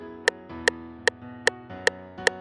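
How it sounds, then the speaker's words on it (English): A metronome set to 150 beats per minute ticks six times at an even pace, crisp and sharp over a soft, steady tonal background. "So if the metronome is set to, say, 150 beats per minute, it sounds like this."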